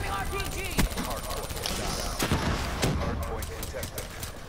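Call of Duty: Black Ops 3 gunfire on the Nuketown map, a steady stream of rapid shots with sharp cracks and hit sounds over busy game noise and faint voices.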